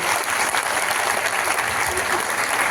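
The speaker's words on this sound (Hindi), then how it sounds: "तो आप सबके लिए आप जोरदार तालियां बजाइए" Loud, dense applause rolls through a packed hall crowd at a Saraswati Puja Mahotsav speech in Navsari, an unbroken roar of many clapping hands heard close and steady throughout.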